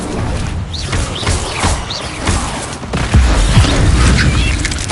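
Incendio fire spells are cast again and again in Hogwarts Legacy, giving a run of whooshing, booming bursts over busy game sound, with small chirps scattered through it and a heavier rumble near the end.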